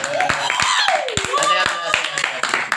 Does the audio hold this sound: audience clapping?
yes